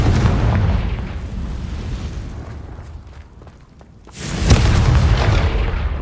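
A Confringo blasting spell explodes in Hogwarts Legacy, a heavy, rumbling blast that decays over several seconds, then a second loud burst hits and rolls on with deep low rumble.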